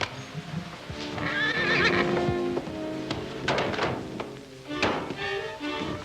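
A horse whinnies loudly, mixed with thumping hooves and shuffling, in a few bursts of neighing and snorting.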